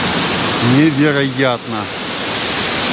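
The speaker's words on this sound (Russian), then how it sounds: "Очень-очень красивый водопад." A large cascading waterfall roars as a steady, dense wash of broadband noise, while someone briefly speaks over it.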